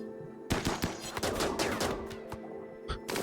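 Bursts of automatic gunfire crackle in RimWorld, a dense run of rapid shots starting half a second in and continuing loudly, with a few sharper isolated cracks near the end.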